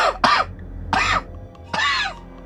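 Three harsh, raspy coughs, close and loud, spaced unevenly with short pauses between them.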